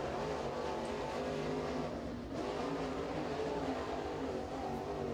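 A CBR chassis crate race car with a big muffler laps the track during qualifying at Crossville, its engine a steady, continuous drone held at a fairly even level for the whole stretch, with no voices.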